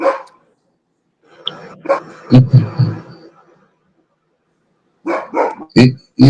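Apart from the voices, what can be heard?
dog barking during online interview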